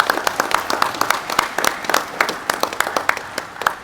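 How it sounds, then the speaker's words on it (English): A crowd applauds at an official event of a Fiji motorcyclist association, with distinct individual claps close by over a broader, sustained round of clapping. "give them a huge round of applause for"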